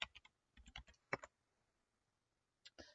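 Quiet keystrokes on a computer keyboard come in two short runs of taps, then a pause and a final pair of clicks, close up in a silent room.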